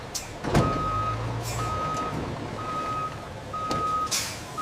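Truck backing up at a loading area, its reversing alarm beeping in a steady repeating pattern over low engine rumble, with a few knocks and clatters nearby.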